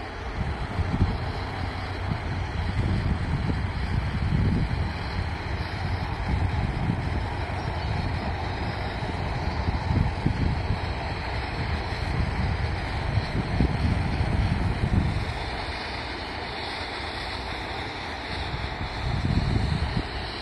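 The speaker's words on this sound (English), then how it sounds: "there's just enough wind to blow the actual branch up and down" Wind blows outdoors around a leafy branch, a steady low rumble buffeting a microphone with gusts that swell and ease throughout.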